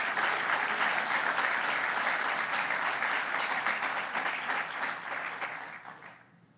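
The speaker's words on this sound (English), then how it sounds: "You can applaud Chancellor Woodson anytime" Sustained audience applause at a university hall dedication for NC State's chancellor, steady and full for several seconds before fading out at the end.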